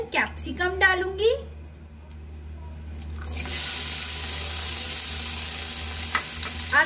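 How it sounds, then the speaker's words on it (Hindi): Capsicum dropped into hot oil in a home kitchen, giving a steady broadband sizzle that swells after a few seconds of quieter stirring and handling, with a low background hum and someone talking over the start. "आप देखिए मैं इसके अंदर कैप्सिकम डाल दी है मैंने सारी, और इसको मैं थोड़ा सा फ्राई होने दूंगी"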